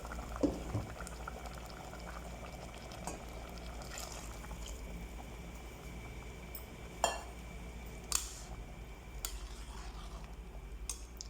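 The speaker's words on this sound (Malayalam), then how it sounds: "തിളച്ച വെള്ളമാണ് ഒഴിക്കേണ്ടത്" Boiling water bubbles and simmers in a pot for prawn biryani, a steady close bubbling with a few sharp clicks and clinks, no talking.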